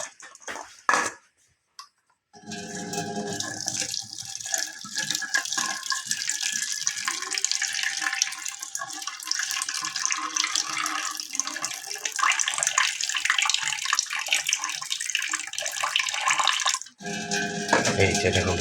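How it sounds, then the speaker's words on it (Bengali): Water runs in a steady gush from a tap or pour to soak whole spices such as black peppercorns for kacchi biryani, starting after a few brief knocks and continuing near and fairly loud before cutting off. "এই এখন এটা পানি দিয়ে ভিজিয়ে রাখবো।"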